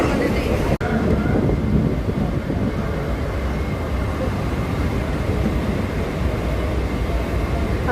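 A Mumbai slow local train on the CSMT to Vashi run rumbles and rattles steadily and loudly throughout, with one brief dip in the noise near the start.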